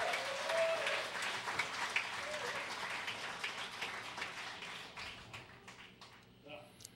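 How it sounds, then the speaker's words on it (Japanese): Audience applause during a church sermon, a dense patter of clapping that gradually thins and fades over several seconds. "拍手をお願いします"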